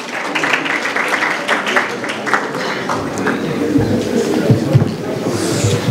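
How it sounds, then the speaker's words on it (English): Audience at a business event applauds as the moderator comes in, a dense steady patter of clapping from a full room that carries on throughout. "Please a round of applause for him as he comes in."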